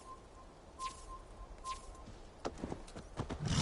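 Horse in the video game Assassin's Creed Valhalla, a few hoof clops and stamps near the end, faint and close, with chirping birds earlier in the scene.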